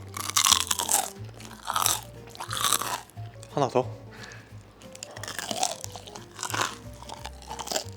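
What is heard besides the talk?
biting crispy chicken karaage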